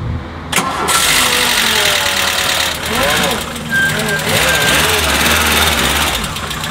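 A VW Golf 2 engine cranks and catches after sitting for several days, then settles into a loud, close, slightly rough idle with a few revs, while someone talks over it.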